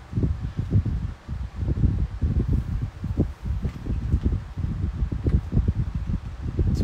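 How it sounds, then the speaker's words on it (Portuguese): Electric fan running in a hot room: a steady, close whooshing and fluttering drone of moving air with rhythmic pulsing, fairly loud and continuous, with no one speaking. "Se vocês estiverem escutando um ruído assim, é o ventilador, tá?"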